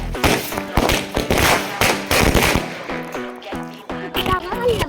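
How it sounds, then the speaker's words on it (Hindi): A string of mirchi firecrackers set off for Diwali, crackling in a rapid, ragged run of sharp pops and bangs that keeps going for several seconds with no voices. "मिर्ची पटाखों वाली लड़ी। चलिए अब इसको भी चलाकर देखते हैं।"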